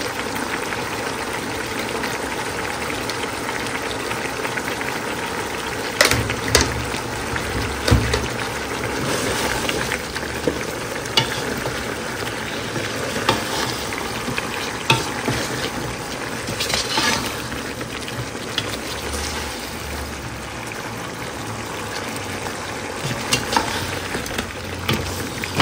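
Chicken roast simmers in milk in a pan, a steady bubbling sizzle with occasional stirring clinks and scrapes, close and moderately loud with no talking.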